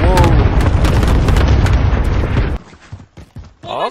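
Cluster precision airstrike in Call of Duty Warzone, a loud sustained rumbling barrage of overlapping explosions that cuts off abruptly, followed by quieter game sounds and a short burst of noise near the end.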